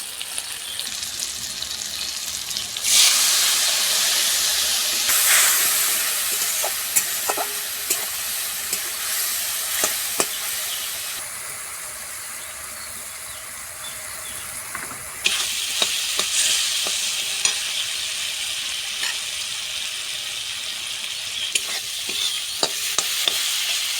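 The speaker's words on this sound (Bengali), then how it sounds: "মশলা কষানো হয়ে গিয়েছে" Spice paste of ground coriander, turmeric and onion with a few tomato pieces frying in a pan, a steady loud sizzle with repeated scraping stirs throughout, swelling louder partway through; no talking.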